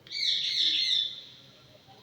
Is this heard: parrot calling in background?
yes